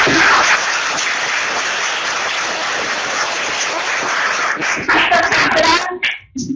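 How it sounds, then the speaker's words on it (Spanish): An audience applauds an engineer after a conference talk on clean energy financing, with dense steady clapping that thins and breaks up near the end, mixed with a little laughter. "vamos a darle un fuerte aplauso al ingeniero."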